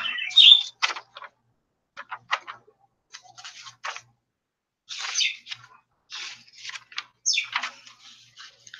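Pet bird Judy chirping loudly and close by in sharp, scratchy bursts and short calls, scattered irregularly with brief pauses between.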